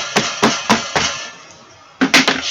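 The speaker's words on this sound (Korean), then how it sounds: "망치로 두드려 주시면" A hammer pounds dried pollock on a hard stone in sharp, close knocks, four evenly spaced strikes, a brief pause, then a quicker cluster of three or four more.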